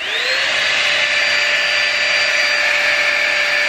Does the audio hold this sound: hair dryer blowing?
yes